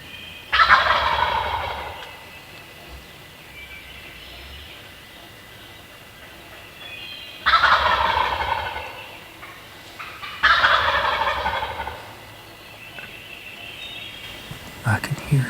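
Wild turkey gobblers call from the roost in a Kentucky spring woodland, three loud, rattling gobbles spaced several seconds apart, fairly close, with quiet forest ambience between them.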